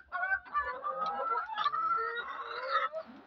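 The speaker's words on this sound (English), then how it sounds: "just see how the chicken are enjoying." Free range chickens on a poultry farm cluck and chatter continuously, several birds close by with overlapping short calls and no talk.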